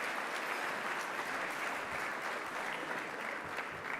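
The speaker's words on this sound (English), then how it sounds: "Let's give her a big round of applause, welcoming Kim." Steady, dense audience applause fills a formal health-awards anniversary celebration as a presenter is welcomed to the stage; the clapping stays even, close and loud throughout with no pauses.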